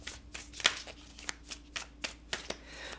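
Tarot cards being shuffled by hand, a run of soft crisp riffles and taps in an irregular rhythm, close and fairly quiet with no speech.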